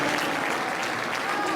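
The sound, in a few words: applause and booing as Alexis Tsipras enters European Parliament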